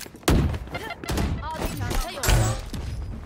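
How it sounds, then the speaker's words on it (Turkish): A bazooka rocket bursts in midair in a shooter video game, heard as loud booming impacts and gunfire-like thumps around 0.3 and 2.3 seconds, with excited talk running over the action. "Kafasına attım bazukayı, havada patladı."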